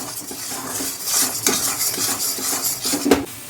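A ladle stirs semolina and milk in a metal pot for a milky palm-fruit payesh, giving steady scraping and clinking close up, with a few sharper knocks against the pot's side.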